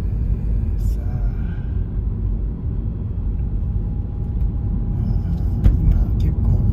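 Subaru Outback with a six-cylinder engine driven hard up a mountain road, a steady loud low engine and road rumble throughout with some faint higher clicks, no talk.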